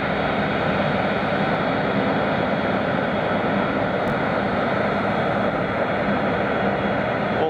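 Jet airliner engines three and four spooling up together at Munich airport, a steady, loud broadband roar that holds constant throughout with no talk over it.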